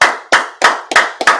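Sharp, loud claps in a steady rhythm from a congregation at a Sabbath service, five evenly spaced beats with a quick double at the end, with no talking over them.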